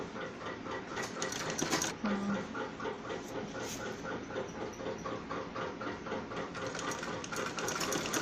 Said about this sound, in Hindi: उसके बाद एक सिलाई हम इस तरफ को लगा लेंगे।